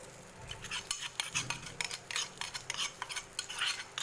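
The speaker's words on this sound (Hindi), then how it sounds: "घी गर्म हो चुका, अब इसमें हम बिरयानी मसाला डाल देंगे। 1 बड़ा चम्मच बिरयानी मसाला डाल के और बस मिक्स करके गैस ऑफ कर देंगे।" Biryani masala stirred into hot ghee for fish biryani: quick, quiet metallic clinks and scrapes of a spoon against the pan, with only a faint trace of sizzle underneath.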